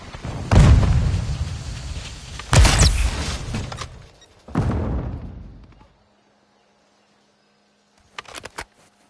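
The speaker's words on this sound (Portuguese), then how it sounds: "Granada de concussão lançada!" A concussion grenade goes off in Call of Duty MW2 multiplayer as three heavy booms, each with a short rumbling tail, followed by silence and a brief cluster of faint mechanical clicks.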